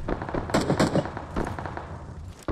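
Gunfire in the mobile battle-royale game PUBG Mobile: a rapid burst of loud, close shots around the half-second mark, then scattered further reports and game noise trailing off.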